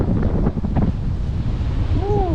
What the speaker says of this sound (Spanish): Era una super ola y no me quería mojar las zapatillas.